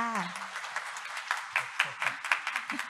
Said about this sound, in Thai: ขอเสียงปรบมือดัง ๆ ด้วยค่ะ